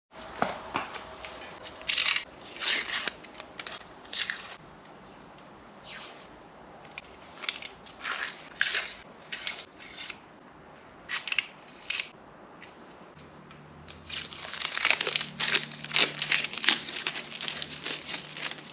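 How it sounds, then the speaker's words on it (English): Masking tape being pulled and peeled off freshly painted car parts in a garage, a run of short ripping, crinkling bursts that cluster more densely toward the end, with no talking. "I will take all these tape off"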